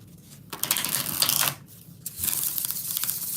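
Oracle cards are shuffled during a live card reading, two bursts of crisp riffling and flicking separated by a brief pause, fairly close and with no talk over them.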